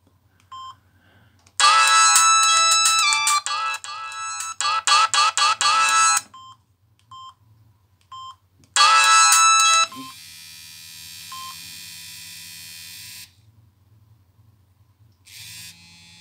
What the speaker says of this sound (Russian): полифонические мелодии 16-тональные, также есть виброзвонок